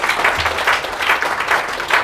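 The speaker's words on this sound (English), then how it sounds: "let's just give a round of applause to this all-female panel" A conference audience at a legislative summit applauds an all-female panel, a dense steady wash of many hands clapping close by.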